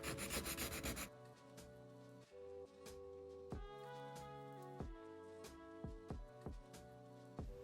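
Steady abrasive sanding of cured epoxy resin with a humming, tonal motor drone and repeated rasping strokes, continuous and close, with no one speaking.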